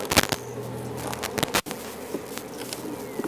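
Honeybees being shaken off frames into a starter hive, a dense buzzing swarm close by with sharp thumps and bumps from the shaking, and a sudden brief drop partway through before the buzz resumes.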